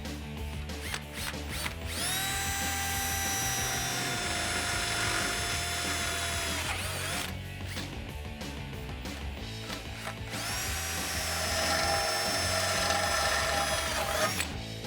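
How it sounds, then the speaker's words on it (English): A power drill with a 5/16 bit bores pilot holes in a 2014-2018 Silverado 1500 or Sierra truck frame, giving two long, loud whining runs of the motor with a bite-and-grind texture and a short pause between them. "take a 5/16 drill bit. We're gonna drill our pilot holes"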